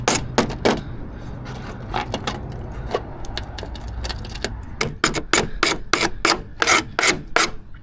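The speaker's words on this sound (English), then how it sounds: "scrape her back to see what's actually going on" Rust being scraped off the body of an old Nissan D21 Terrano: a steady run of harsh, close rasping strokes over a low rumble, growing quicker and sharper toward the end.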